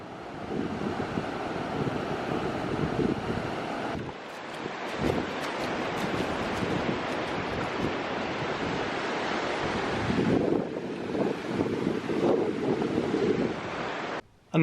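Wind and ocean waves on a cold, windy beach: steady roaring surf with buffeting gusts against the microphone, loud and continuous, with no voices.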